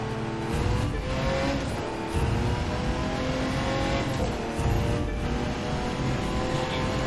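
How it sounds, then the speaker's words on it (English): Race car engine in The Crew 2 holding a steady high-pitched roar at very high speed, with smooth continuous drone and occasional slight surges, close and loud without talk. "I like to get the car up to a decent speed, you know, 200 mile an hour, 210, 220 through here is pretty smooth."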